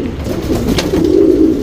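A broad-chested, round-headed show pigeon with an S-shaped neck gives a loud, close, low rolling coo that swells and fades, alone with no talk.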